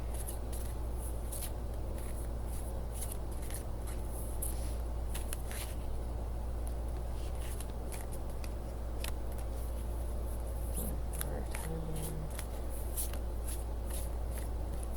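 Cards riffle and slap in repeated quick bursts, a deck being shuffled over and over against a steady low background hum.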